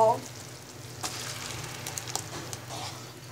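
Blended mango mixture hitting melted sugar in a hot pan for a spiced mango bar, giving a soft steady frying hiss with a few faint clicks, quiet and close.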